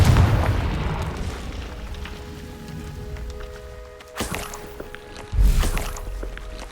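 Confringo blasting-curse explosions in Hogwarts Legacy: a rumbling boom fades at the start, then two sharp, loud blasts burst out a second apart near the end over a faint sustained musical tone.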